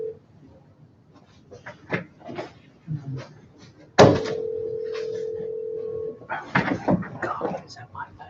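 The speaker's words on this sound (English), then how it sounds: "is that my phone again?" A phone rings with one sustained electronic tone lasting about two seconds, loud and close, amid scattered room clatter and murmuring at a county commissioners meeting.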